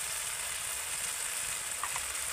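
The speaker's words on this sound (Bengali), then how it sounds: "আর একটু মশলাটা নেড়ে নেব" Spice paste with ground coriander sizzling steadily in hot oil as it is stirred, a constant close frying hiss with faint scrapes.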